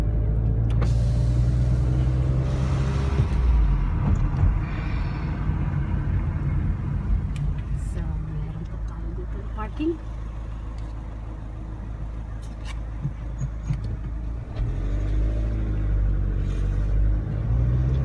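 An interior car drive hunting for a parking spot near a bridge on the way to a Hilton Hotel, with a continuous low engine and road rumble throughout and a few faint clicks and thumps, no voices.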